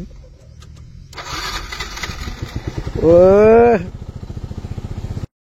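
A motorcycle engine runs close by with a steady throbbing pulse, and a brief rising whine cuts in midway before the engine carries on.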